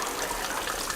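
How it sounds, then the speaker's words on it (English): Cartoon water starts flowing through thawed frozen pipes, a soft steady gushing and trickling like a tap running, faint and continuous. "I think the water's starting to flow."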